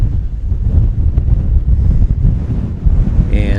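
Strong wind buffets a microphone at an exposed hilltop campsite above a valley, a loud continuous low roar with gusty surges throughout and a brief higher whistle near the end, no voices.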